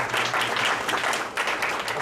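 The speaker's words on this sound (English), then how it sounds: "Give Sergio a round of applause." A short burst of steady applause from a small crowd, dense clapping at an even level throughout.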